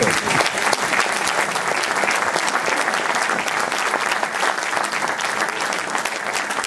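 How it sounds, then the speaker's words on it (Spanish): Applause fills the hall at a musical tribute event, as a crowd claps loudly and continuously with crisp, rapid hand strikes, sustained evenly from start to finish. "Unha forte aplauso"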